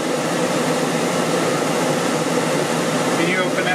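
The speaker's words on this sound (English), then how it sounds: "Okay, fan starts up." A camper's rooftop air conditioner fan runs on its high setting, a loud, steady broadband whoosh that stays constant throughout, close and unbroken.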